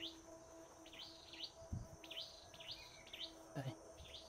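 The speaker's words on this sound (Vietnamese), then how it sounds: "Xung quanh là chim kêu." Small birds chirp and tweet around a rural Vietnamese garden by a coconut embankment in the morning, repeated short bright calls at moderate distance over a quiet outdoor hum, with a couple of soft low thumps.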